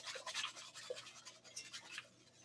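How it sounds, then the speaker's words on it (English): Whisked sugar mixture being pushed through a sieve in a kitchen, soft close scraping and rubbing strokes in a quick irregular rhythm, faint and alone without voices. "You're gonna put it through a sieve."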